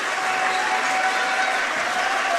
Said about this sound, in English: Crowd is into it here, so good job by Davis